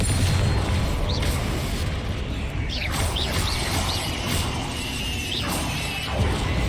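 Rapid clashing spell blasts and explosions in a Hogwarts Legacy battle, loud continuous crashes and whooshing bursts with short rising whistles and no talk.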